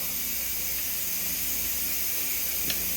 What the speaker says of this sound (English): If you hear a noise in the background, I'm canning